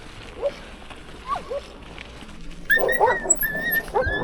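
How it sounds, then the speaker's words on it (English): Dogs whimper and yip in short, high whines, then several bark and yelp together, close and fairly loud, at a place along the Pamir Highway. "See what I'm talking about with the dogs? They're crazy in this place."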